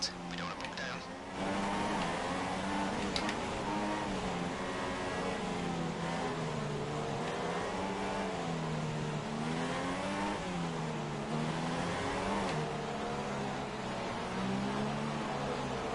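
A Formula 1 car engine in the F1 2016 video game revs at a race start in China, a loud wavering roar whose pitch rises and falls repeatedly, running steadily throughout.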